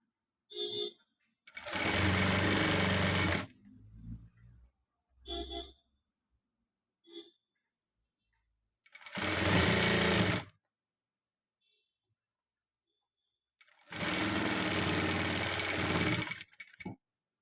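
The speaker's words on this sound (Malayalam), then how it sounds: "ഇനി ഇങ്ങോട്ടേക്ക് ഒരു 1/2 ഇഞ്ച് മാത്രം തയ്യൽ തുമ്പിട്ട് അടിക്കുക." A domestic sewing machine stitches a nighty frock in three long, steady runs of about one to two seconds each, with a few short stop-start bursts between them and quiet pauses in between.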